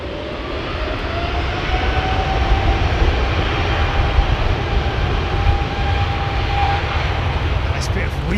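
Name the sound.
Qatar Airways jet engines starting up at Heathrow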